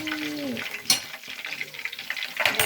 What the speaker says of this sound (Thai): กุ้งฝอยนี้เราจะทอด